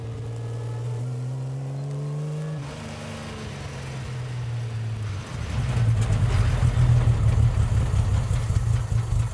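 A Maserati engine bored out to 5.7 litres idles with a low steady rumble, dips briefly, then revs up louder into a rough, throbbing roar that holds to the end, with no voices.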